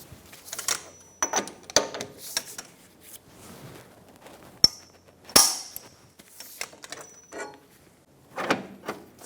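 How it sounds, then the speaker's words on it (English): Metallic clinks and sharp ratcheting clicks ring out as a torque wrench tightens the axle nut to 230 foot-pounds on an Infiniti G35 front wheel hub, with a pry bar braced between the studs. The clicks come in irregular, close bursts with two especially crisp, bright strikes. "Using a pry bar in between the studs, we're going to torque the axle nut to 230 foot-pounds."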